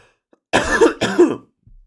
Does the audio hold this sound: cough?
yes